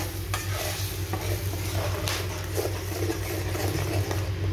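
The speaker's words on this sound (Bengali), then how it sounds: "তেলের মধ্যে দেখো ফোড়নের জন্য এগুলো দিয়ে দিলাম, তেজপাতা, শুকনো লঙ্কা আর গরম মশলা দিয়ে একটু নেড়ে চেড়ে নিচ্ছি।" Bay leaf, dried chilli and garam masala sizzle in hot oil, tempering for a prawn malai curry. A spoon stirs and scrapes the pan over a steady frying crackle.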